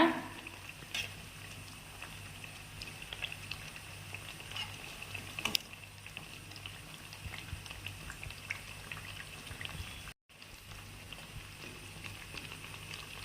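Black urad dal vadai frying in oil over a low flame, a steady soft bubbling and patter of fine crackles that runs continuously and evenly, close by, with a brief dropout near the end.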